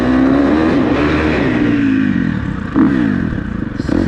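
A four-stroke dirt bike engine revs loud and close, holding a steady roar, then dipping and rising again in a brief blip, with no talking over it.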